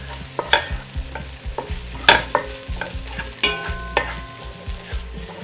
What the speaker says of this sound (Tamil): இதை வந்து நல்லா வதக்கி விடுங்க